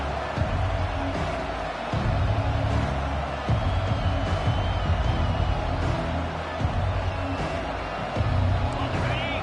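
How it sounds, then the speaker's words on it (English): A dense, roaring football stadium crowd cheers and hollers throughout, loud and continuous, with sharper swells of noise rising above a constant wash of voices. "This crowd bringing an ear-splitting welcome to their visitors."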